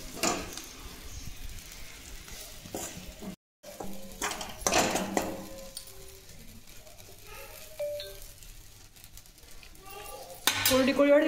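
Okra frying in a pan, with a soft sizzle under repeated clanks and scrapes of a spoon stirring against the metal, moderately close, with a brief cut and a louder clatter near the end.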